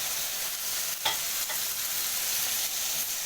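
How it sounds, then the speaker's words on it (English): Curry mixture for chicken curry with sweet potatoes being stirred after lemon juice goes in, a steady close scraping and sizzling in the pan with one sharper knock, no voices. "Then I mix it up for a little while, for a few minutes"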